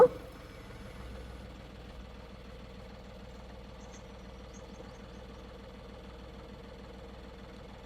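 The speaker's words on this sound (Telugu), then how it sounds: "ఇంజిన్ వచ్చేసి చాలా డీసెంట్ సౌండ్ అనేది వస్తుందని, ఎలాంటి నాయిస్ అనేది రావట్లేదు" An Ashok Leyland Bada Dost mini truck diesel engine idling after a clutch-held start, a low, even rhythmic chug with a faint knock, steady and close after a brief initial thump, with no talking.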